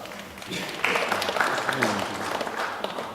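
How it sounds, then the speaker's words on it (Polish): Moderate applause from the audience at a Polish exporters' congress award ceremony, steady clapping that picks up and holds as a prize is announced, with a voice speaking over it. "Zapraszamy, brawa"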